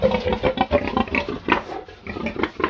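A captive wild boar, part of a pair with a large male, grunts and snorts close by in a continuous, rough, uneven series.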